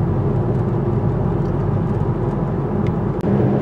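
Wind noise inside a 2016 Volkswagen Beetle Convertible R-Line with its soft top, a constant loud low roar of air and road rumble while driving, with no voices.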